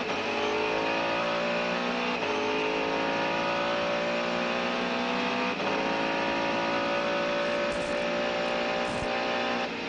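A Mercedes race car at the 1999 Le Mans 24 Hours screaming down the pit straight, a steady high-pitched engine whine with brief lifts at each gear change, loud and continuous with no talk.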